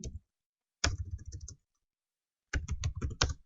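Bursts of rapid clicking keystrokes on a computer keyboard, two clusters of quick taps separated by a silent pause, close and clear.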